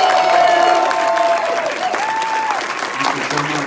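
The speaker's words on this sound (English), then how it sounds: "let's give a round of applause to Linnea Quigley one more time" Audience applause at a horror festival Q&A in Salem, a steady wash of clapping from a crowd lasting a few seconds, with a voice speaking over it.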